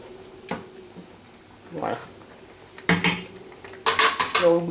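A spoon scrapes and clinks inside a pot of simmering sauce made with chili and garlic. Stirring clatters come in irregular bursts, louder toward the end, while a person talks nearby.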